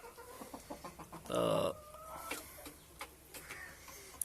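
Desi hens of the Golden Misri breed cluck softly on a farm in Pakistan. Faint, scattered clucks are followed by one louder, brief squawk, with a single spoken word in between.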